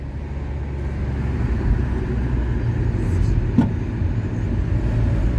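A Citroen C4 engine hums steadily and strains under load driving uphill, a continuous low drone with road noise and no talking.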